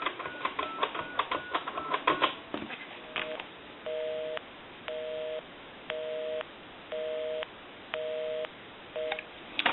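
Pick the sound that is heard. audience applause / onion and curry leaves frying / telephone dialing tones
telephone dialing tones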